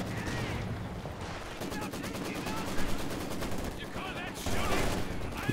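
PPSh submachine guns and LMGs firing in a Company of Heroes 2 battle between German and Soviet forces, with rapid bursts of automatic fire over a busy battle din and voices heard in the mix.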